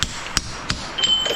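A hammer strikes a metal stripping tool while removing copper from a motor, three sharp metallic blows about a third of a second apart, close and loud, followed by a faint ringing tone.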